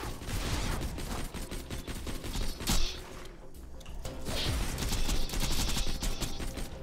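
Steady gunfire from a Borderlands 2 firefight crackles in quick repeated bursts, with sharp impacts and a brief lull midway before the shooting resumes at full intensity.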